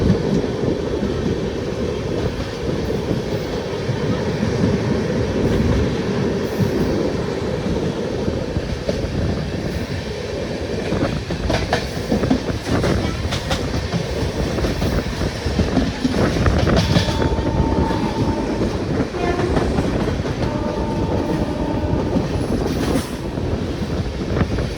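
The Charminar Express from Chennai toward Hyderabad rolls along the rails at night, a continuous rumbling roar with clickety-clack wheel beats and wind buffeting the microphone, steady and close throughout with no speech.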